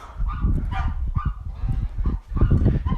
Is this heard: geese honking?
yes